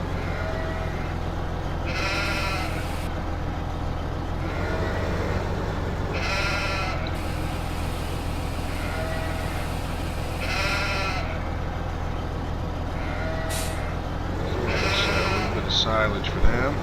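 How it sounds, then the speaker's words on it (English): Sheep bleating in a farming simulation game, several drawn-out bleats at intervals over a steady low engine-like hum, with a person talking throughout. "This is going to be the sheep."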